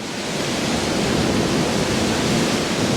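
Rough sea on a windy shore in Zonguldak, waves reaching up the beach, heard as a loud continuous broadband roar of surf mixed with wind, steady throughout with no talk.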